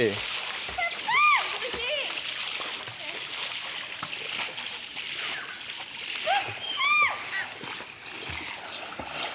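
A child learning to swim splashes in water with repeated close splashes and sloshing, while children's voices and high cries ring out over the watery noise throughout.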